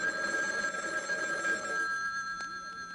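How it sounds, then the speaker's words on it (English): An old office telephone bell rings steadily and fairly loud, its bright tones sustained for about two seconds before cutting off, followed by a faint tap. "Telephones ring when someone's trying to reach you."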